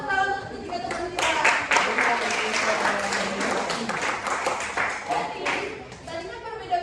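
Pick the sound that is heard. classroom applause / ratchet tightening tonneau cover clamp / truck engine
classroom applause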